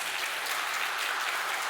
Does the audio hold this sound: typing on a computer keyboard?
no